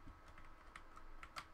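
Several light computer keyboard key presses click close by, faint and quick, as numlock is toggled, with about four or five distinct taps over a second and a half.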